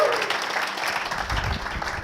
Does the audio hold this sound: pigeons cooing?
no